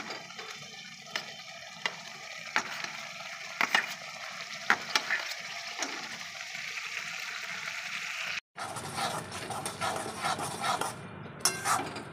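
A steady sizzle of frying spice masala in a pan fills the clip, with intermittent stirring clicks and a brief cut before the frying resumes as fried prawns go in for potoler dorma.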